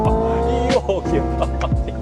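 A Hyundai Ioniq N held at full throttle in eighth gear plays a loud synthetic engine note, a steady rising drone with shifting harmonics and brief tire-like squeals, close and continuous for about two seconds.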